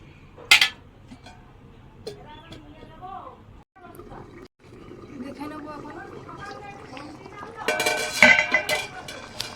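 A lid goes onto a cooking pot while a potol chicken curry cooks. There are bright metallic clinks at the start and again near the end, with a person talking softly in between.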